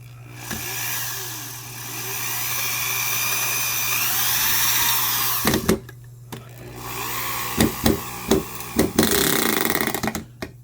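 A Makita 6805BV adjustable-torque drywall screw gun drives a longer screw, whirring up and straining, then a burst of sharp ratcheting clutch clicks as it reaches torque, with a low background hum throughout.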